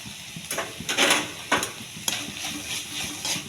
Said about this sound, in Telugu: ఇది పచ్చివాసన పోయే వరకు వేయించుకోవాలండి.